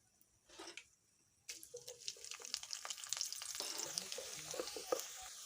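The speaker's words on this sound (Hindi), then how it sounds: "इस घी को हम इसमें प्याज तलेंगे।" Onions go into hot ghee left over from frying chicken for biryani. After a quiet start and a short thump, a loud crackling sizzle bursts in and keeps building, close and dense, with no talking.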